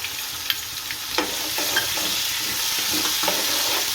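Ginger and tomatoes fry in a pan with a bright, continuous sizzle, punctuated by stirring clinks and scrapes, close up and without talking.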